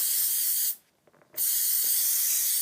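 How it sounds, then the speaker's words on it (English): Cleaner sprayed onto a firearm magazine in two long, steady, close hissing bursts separated by a short pause with faint handling clicks. "we're just going to spray it down"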